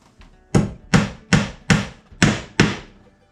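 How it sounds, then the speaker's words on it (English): Six sharp hammer blows drive a nail into wood at a workbench for hanging wrenches, evenly spaced and loud, with a softer tap beforehand. "I'm going to put a nail in there because I'm going to hang them up on nails"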